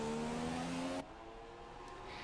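A Formula 1 car in a racing video game at the Australian Grand Prix roars past with a loud, high engine whine that cuts off abruptly after a second, leaving a softer engine drone.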